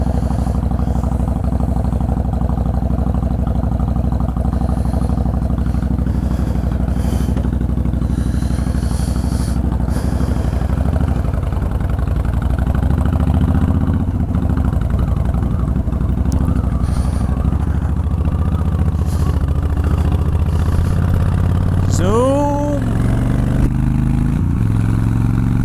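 A motorcycle engine runs steadily and loudly up close, a low rumbling idle with some clatter, and a rising rev sweep near the end.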